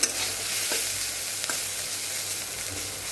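Grated coconut fries in a pan with a dense, steady sizzle and a few soft scrapes of stirring, close and continuous throughout.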